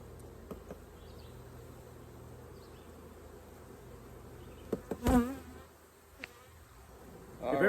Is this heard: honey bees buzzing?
yes